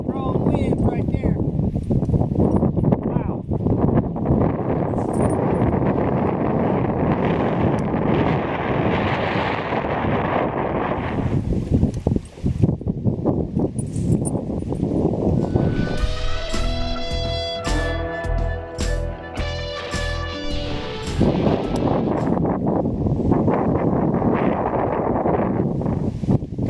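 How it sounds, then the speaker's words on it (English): Strong wind buffets the microphone at Celina Lake in Hoosier National Forest in a continuous roaring rush, with a voice speaking partway through and a brief tonal whine in the middle. "That's some strong winds right there."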